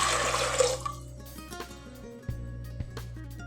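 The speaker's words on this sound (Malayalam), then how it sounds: "കടല വേവാനുള്ള ആവശ്യത്തിനുള്ള വെള്ളം നമ്മൾ ഒഴിച്ചു കൊടുക്കാം" Water splashes briefly as it is poured into a pressure cooker for boiling chickpeas, followed by soft metallic clinks and a low hum.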